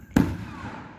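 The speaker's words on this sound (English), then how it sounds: "It's fireworks." A firework at an Independence Day display in a park bursts with a single sharp, loud crack. Its rumbling echo trails off over most of a second.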